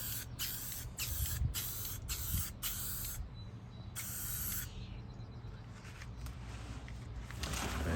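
Aerosol spray paint bursts onto a 1950s ILG Model 83 fan in several short hissing light coats, a rhythmic series of brief sprays followed by a longer one, close by with faint clicks between.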